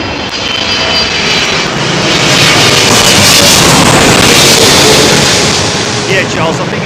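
A jet airliner arriving on runway 27L at London Heathrow Airport passes close by with a loud, broad engine roar that swells to a peak midway and then eases off.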